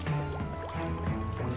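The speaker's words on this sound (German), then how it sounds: "Hier noch eine Blume, die ich gießen kann." Watering a flower in the video game Luigi's Mansion produces a continuous splashing, gurgling liquid stream with small bubbly drips, steady and fairly close over a low game background.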